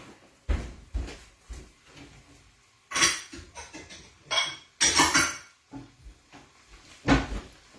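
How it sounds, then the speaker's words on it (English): Cupboard doors open and close in a kitchen as a small bowl is taken out, with several knocks, bumps and clinks of dishes coming in bursts. "Let me get a little bowl so I can show you."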